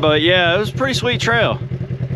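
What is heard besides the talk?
four-wheeler ATV passing on a trail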